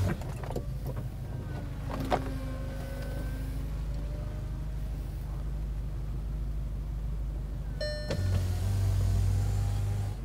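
The motorized roof of a 2015 Volkswagen Golf R Cabriolet whirs steadily with a low electric hum, ending with a mechanical clunk and a louder rumbling hum at the end.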